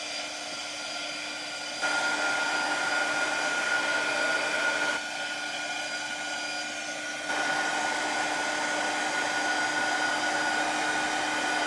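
A handheld heat tool blows a steady, loud whoosh with a high whine while drying a Christmas craft project, shifting slightly in tone as it is moved in and out, with no talking.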